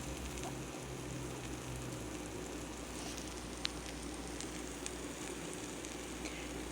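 An almond flour keto pizza crust fries in a pan with a little oil around its edges, a faint, even hiss of sizzling that stays steady throughout with no voices.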